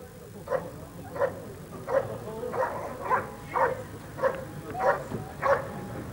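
A Belgian Malinois shepherd dog barks at a working-dog event, giving about nine evenly spaced barks at moderate distance over a steady background hum.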